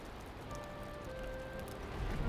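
Rain falls in the video game Valheim as a soft, continuous patter and hiss. Faint tonal notes sound partway through, and the rain swells slightly louder toward the end.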